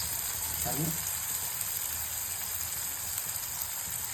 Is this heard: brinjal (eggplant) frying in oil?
yes